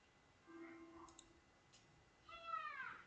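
A cat in a video game gives a faint, brief meow that rises and falls, preceded by soft clicks over quiet background sound.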